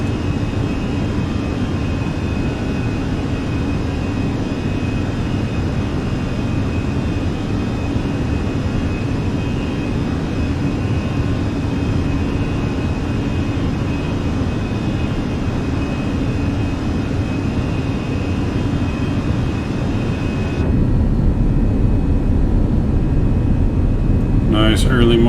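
Fenix A320 jet engines on an early-morning takeoff roll out of Montreal in Microsoft Flight Simulator: a loud, steady broadband roar with a faint tonal whine, continuous for the whole span and growing a bit heavier near the end.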